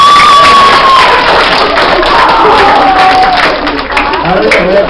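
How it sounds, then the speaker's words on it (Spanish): Children in a classroom cheer and shout, with some clapping mixed in, loud and close throughout, with a voice audible within. "Vayan un aplauso."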